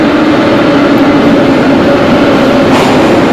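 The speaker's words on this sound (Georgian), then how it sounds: "მეორე მატარებელი წუთია." A train passes close by, producing a loud, steady rumble and rushing hiss that holds evenly for the whole stretch, with no voices.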